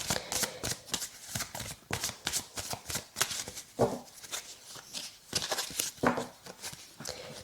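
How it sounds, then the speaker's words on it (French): Cards being handled and drawn from an oracle deck during a tarot reading, giving soft rapid riffling and sliding shuffles in repeated bursts, close and quiet, with no clear talking. "je vous sortirai la carte qui va avec"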